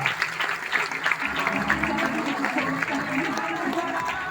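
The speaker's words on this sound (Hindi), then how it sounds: "सभी के लिए जोरदार तालियां" An audience in a hall claps steadily for several seconds, the applause moderately loud and continuous, with a voice and a low musical hum underneath.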